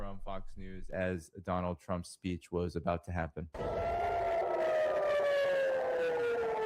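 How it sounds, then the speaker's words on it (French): Someone speaks for a few seconds, then a loud wailing air raid siren over Tel Aviv takes over, its long tone slowly falling in pitch over a dense rumble. "Des sirènes retentissent au-dessus de Tel Aviv alors qu'une salve de missiles frappe le pays."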